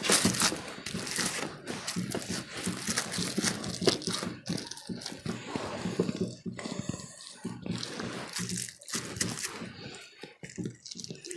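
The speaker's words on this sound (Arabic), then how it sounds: "بعد كده هتقفلي الكيس" A plastic bag being closed and handled over a plate of homemade quick pastirma, with close, continuous crinkling and rustling that comes in irregular bursts and short pauses.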